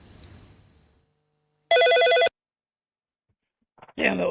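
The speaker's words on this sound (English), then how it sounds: "that was an old phone" An old telephone rings in one loud, buzzing electric burst of about half a second, isolated in near silence, followed shortly by a voice starting to speak.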